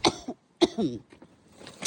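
Two sharp coughs close together, then a quieter rough throaty sound and a faint rustle near the end.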